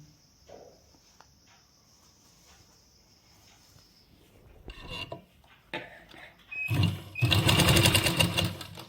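A sewing machine stitches a seam on a frock suit in a tailoring shop. A quiet stretch with a high whine and light clicks is followed by short starts and then a loud, fast, steady run of stitching.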